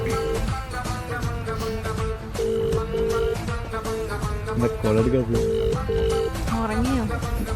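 A telephone rings in repeated bursts, fairly loud, with voices talking over it and music-like tones around.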